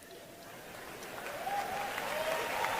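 Church congregation applauding during a pastor's testimony, a steady wash of clapping that builds and holds, with faint voices mixed into the crowd noise.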